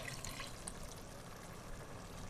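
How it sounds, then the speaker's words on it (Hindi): A steady stream of water, about half a glass, pours into a pan of chickpeas in masala, a continuous close liquid rush with faint splashes, no voices. "अब हम इसमें आधा गिलास पानी डाल देंगे"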